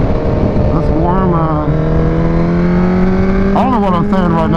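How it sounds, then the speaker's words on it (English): A 300 hp Kawasaki Ninja H2 roars on a MotoGP race track, close and loud, holding a steady drone before revving up sharply near the end, with a voice talking over the engine. "This bike is so loud and so heavy and so fast."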